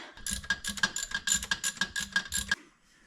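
A ratchet wrench loosens turbo manifold bolts on a Volkswagen Jetta TDI, giving about a dozen quick, evenly spaced metallic clicks in a close, loud burst lasting under three seconds, then stopping.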